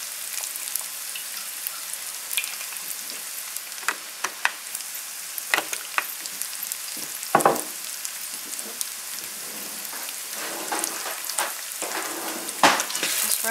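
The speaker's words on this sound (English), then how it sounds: "Just run that around in the pan a little bit and you can see how nicely it's all starting to brown." Chicken fingers browning in a hot pan give a crackling, popping sizzle, spattering in irregular bursts like rain on a surface, close and steady with no voices.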